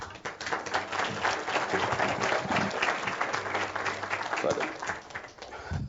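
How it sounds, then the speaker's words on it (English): Sustained applause from an audience at a formal address by a tourism minister, a dense steady wash of many hands clapping for several seconds, fairly distant in a hall. "Let's give him another round of applause."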